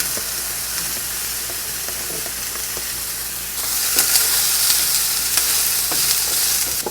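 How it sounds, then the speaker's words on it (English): Mushrooms sauteing in a pan, a steady sizzling hiss with occasional soft stirring clicks, growing louder and brighter midway as the frying intensifies, close and alone without talk. "While the mushrooms are sauteing"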